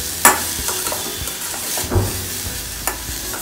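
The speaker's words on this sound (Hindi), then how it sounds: "हल्के से फ्राई हो गए हैं सब्जी" Mixed vegetables for a hot and sour soup frying in a pan under a continuous close sizzle, with three distinct scraping stirs spaced across the moment and no speech.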